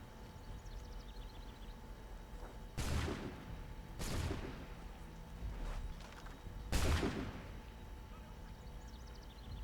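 Guns fire in Assassin's Creed III, about four loud booming shots spaced a second or more apart over constant background game ambience.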